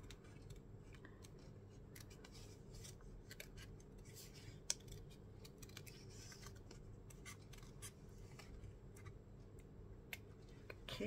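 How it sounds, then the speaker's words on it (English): Scissors snip through cardstock in a quiet papercraft session, trimming around a cut-out figure with soft, irregular clicks and paper rustling at close range. "I'm going to cut that off."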